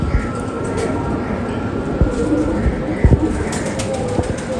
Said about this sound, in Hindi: बटेरा कबूतर है